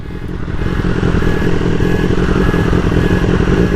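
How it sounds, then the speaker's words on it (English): A loud, close BMW S1000R motorcycle engine drones steadily alongside in urban traffic, with a constant mechanical rumble and a faint whine, nobody speaking. "We've got a motorcycle coming up the side of us."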